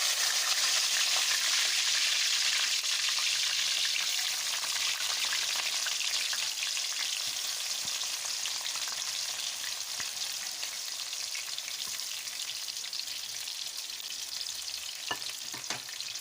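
Onions frying with whole garam masala in a pot for chicken pulao, a loud, dense, steady sizzle that eases slightly over time, with occasional scrapes of stirring and no voices.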